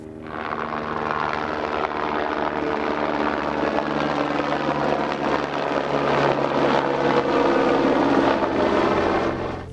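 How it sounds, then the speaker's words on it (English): Helicopters fly over Mount Kilimanjaro with a loud, steady rotor and engine roar that holds at a constant level throughout, with no voices. "We'd heard a few helicopters while we were on the mountain"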